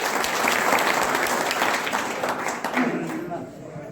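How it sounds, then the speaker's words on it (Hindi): Sustained applause from a crowd at a BSP candidate's village campaign event, steady and fairly loud throughout, with a slight easing toward the end. "जोरदार तालियों से सम्मान।"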